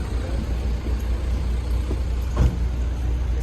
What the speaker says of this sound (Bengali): ট্রাম, বাস এখানে আইসা দাঁড়ায়।